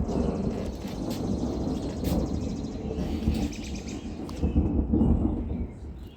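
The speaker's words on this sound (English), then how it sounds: "As y'all just heard that thunder" Deep, rolling thunder rumbles loud and close through the whole stretch as a severe thunderstorm with gusty winds approaches and light rain begins, with a few birds chirping faintly above the low roar.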